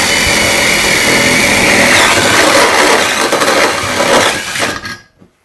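A cordless drill runs steadily at high speed boring a small hole, a loud continuous whine and grind that dips slightly near the end before cutting off abruptly.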